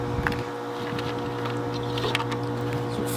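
Electric greenhouse fans just powered on and running, a steady loud whirring drone with a constant hum and some light rattling, continuous for the whole stretch.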